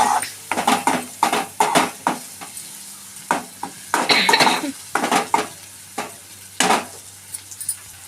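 A spatula scrapes and clinks against a pan in an uneven rhythm, stirring noodles with salt and chili powder over a faint sizzle, close up with no talking.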